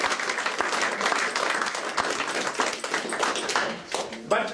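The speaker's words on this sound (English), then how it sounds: "So I think a round of applause for Lady Goldsmith." Applause at an evening reception honouring Lady Goldsmith, dense and sustained clapping from a room of guests filling the whole stretch, with a brief dip near the end before a final swell.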